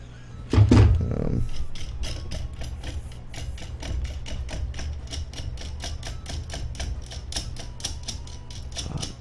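Screws are driven into the frame of an Anet A8 Prusa i3 DIY 3D printer kit, making a long run of quick, evenly spaced ratcheting clicks after an opening thump, close and moderately loud.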